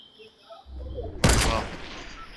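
Gunfire in the video game Fortnite: a single loud, sharp blast breaks in over a low rumble and game ambience, with a brief ringing tail afterward.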